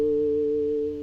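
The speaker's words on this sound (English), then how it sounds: "So just the DI signal sounded like this." A clean, unprocessed electric guitar recorded direct through a Focusrite 2i4 interface rings out as one steady sustained note or chord, plain and dry, fading slightly at the end.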